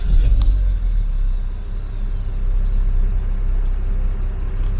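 A BMW E60 523i with about 148,000 km settles into a steady idle after starting, a smooth low rumble heard from close by at a constant level.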